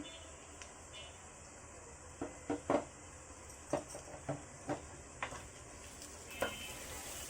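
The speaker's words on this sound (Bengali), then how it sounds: "এগুলোকে কষিয়ে নেব যতক্ষণ পর্যন্ত না আদা রসুনের কাঁচা গন্ধটা দূর হয়" Ginger garlic paste sautéing in a pan for Arabian kabsa, a steady low sizzle with a series of short spatula scrapes and clinks spaced across the middle and end, fairly faint and close.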